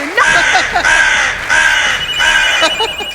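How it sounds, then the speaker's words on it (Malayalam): A crow caws loudly and close by, three or four harsh calls in quick succession with short breaks between them. "കാക്ക വിരുന്ന് വിളിക്കണേ"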